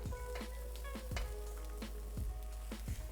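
Ramen noodles sautéing in a pan give off a low, steady sizzle with scattered soft pops and squishy crackles, close and alone with no talking.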